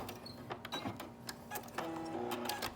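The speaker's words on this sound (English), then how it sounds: "go completely turn around and stitch all the way down that side, back stitch" A sewing machine stitches down the side of a face mask strap, then back stitches, with a steady run of needle chatter and motor hum broken by short pauses and restarts, heard up close.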